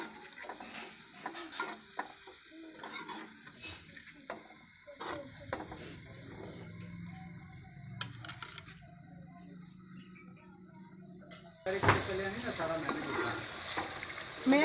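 Masala of half-crushed chili, red chili, dried coriander and salt cooks in a pan for an aloo bhindi salan, with steady frying and repeated spoon scrapes and stirs, turning louder and sharper near the end.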